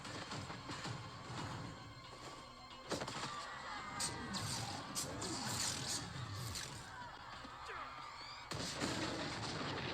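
Gunfire rings out in a TV show scene from The Book of Boba Fett, with sharp shots and crashes over a busy, fairly faint soundtrack, several bursts clustered around the middle and end.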